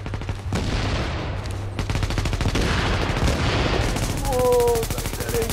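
Rapid bursts of gunfire and blasts in a video game, dense and loud throughout, with a few sharp booming explosions standing out near the start.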